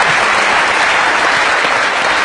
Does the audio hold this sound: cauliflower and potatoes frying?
no